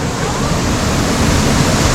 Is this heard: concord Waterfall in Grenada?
yes